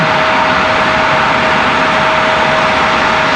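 NetJets business jet arriving at Raleigh-Durham airport from Pickens, South Carolina, a steady loud broadband jet roar with a thin constant engine whine, sustained throughout without talk.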